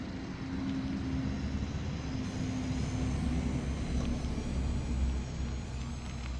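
A radio-controlled truck fitted with a SEQURE brushless 1520 motor runs continuously, a steady droning whine with a low rumble underneath, holding an even level for several seconds without speech.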